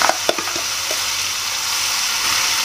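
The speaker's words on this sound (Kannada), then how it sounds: "ಈಗ ರುಬ್ಕೊಂಡಿರೋ ಪೇಸ್ಟ್ ಹಾಕ್ತಾಯಿದ್ದೀನಿ" Ground coriander paste frying in peanut oil over a low flame, a loud, even hiss of sizzling with a few quick clinks of stirring at the start.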